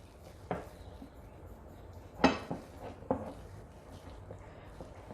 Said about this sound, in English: Whisk it very slowly at one direction.